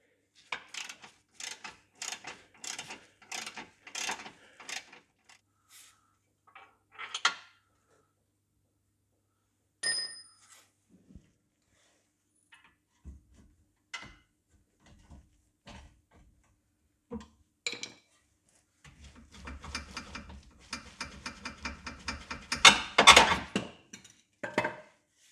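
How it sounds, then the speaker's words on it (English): A ratchet removes a front lower control arm bolt on a Mazda CX7 with quick, faint metallic clicks in short rhythmic bursts, broken by pauses and followed by a denser clatter of tool and metal near the end. "Once you've cracked it off, change over to a ratchet"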